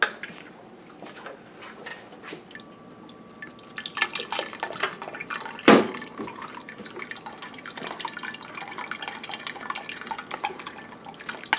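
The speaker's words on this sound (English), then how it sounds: "I'm going to wash some rice to take out the starch." Rice is washed in water in a kitchen, with soft swishing, trickling and dripping plus a few light clinks of a pot, all fairly quiet and close.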